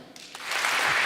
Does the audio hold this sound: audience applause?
yes